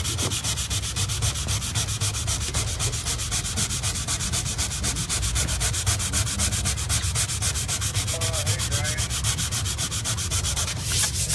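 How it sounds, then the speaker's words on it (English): Continuous rhythmic sanding of a watermark on a wood floor, a close, loud rasping rub with a fast regular back-and-forth pulse that holds for about eleven seconds without talk. "I sanded that watermark out"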